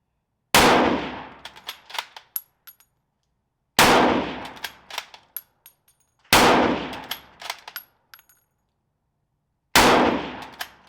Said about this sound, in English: we're gonna fire the G.12-34.